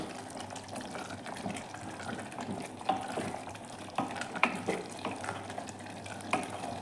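A spoon mixes garam masala and grated coconut into a bitter gourd gravy, giving soft wet scrapes and occasional clinks against the pan over a low simmering sizzle, close up and with no voices.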